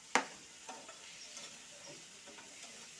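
Prawns are stirred into a frying pan, opening with a sharp clack of a utensil and followed by a faint, soft sizzle with light scattered taps. No one speaks.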